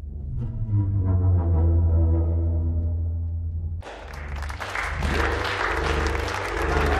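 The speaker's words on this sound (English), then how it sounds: "Oh man, they're clapping" Applause in a movie scene begins partway through as a dense wash of clapping, arriving after a low sustained musical passage and continuing under the score.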